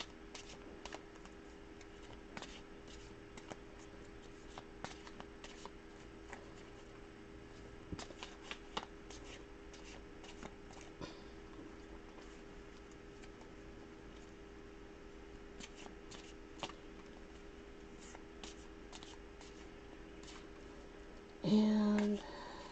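Kipper cards are handled and shuffled softly for a long stretch, with light scattered riffles and taps over a faint steady hum, then a louder brief rustle near the end.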